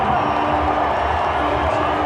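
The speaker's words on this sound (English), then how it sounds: "And now Chandrapal sends the crowd into ecstasy." A large cricket stadium crowd roars and cheers after Chanderpaul hits a six in a 2007 World Cup match between West Indies and Sri Lanka, a steady, dense wall of crowd noise throughout.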